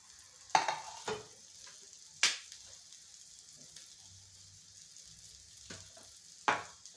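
Oil poured into a pan for a village-style bitter gourd (karela) dish gives a faint, steady sizzle, broken by a few sharp clicks and taps spread across the moment.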